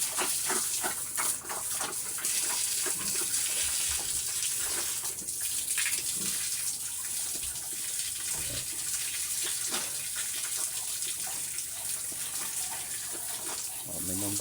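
Water runs and splashes steadily while pet pigs are bathed outdoors, a continuous gushing wash close by with a voice talking over it.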